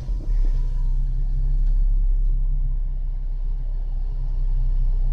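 An automatic car's engine starts after the lever is shifted into P, catching with a brief burst and then settling into a steady low idle rumble, close and even.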